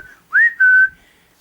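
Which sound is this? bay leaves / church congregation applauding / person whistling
person whistling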